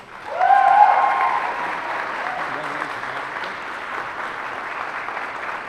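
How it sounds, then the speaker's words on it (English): An audience at a high school senior awards ceremony applauds for an honoree named Orion: a loud burst of clapping swells in, then settles into steady, sustained crowd applause, with a brief whistle near the start. "let's get another round of applause for Orion"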